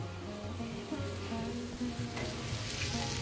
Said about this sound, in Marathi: ही पनीर भुर्जी मी करत आहे माझ्या मनासाठी